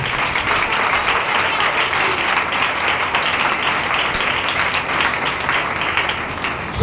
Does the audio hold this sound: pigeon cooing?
no